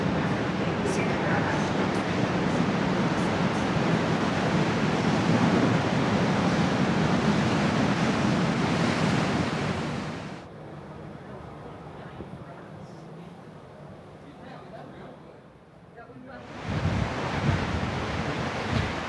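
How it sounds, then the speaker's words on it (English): Strong wind roars across the forward deck of a cruise ship near the bow, a loud steady buffeting rush that drops to a quieter hiss for several seconds, then surges back hard. "It's really windy on this side right now."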